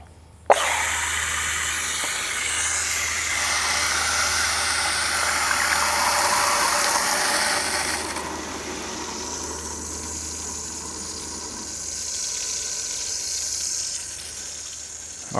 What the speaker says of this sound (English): We've got water flowing through everything.